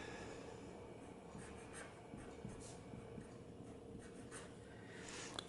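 Pen or marker writing out an equation, a faint, close scratching and tapping that runs steadily over low room noise.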